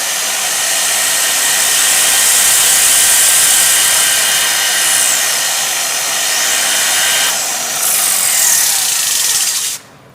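A polisher revs to a medium speed setting, spinning a pad against a pad cleaning tool with a loud, steady high-pitched whir that holds for about ten seconds, dips briefly, then cuts off abruptly.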